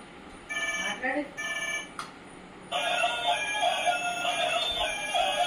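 A phone rings in short electronic bursts, then a longer continuous ringtone plays; faint voices sit underneath.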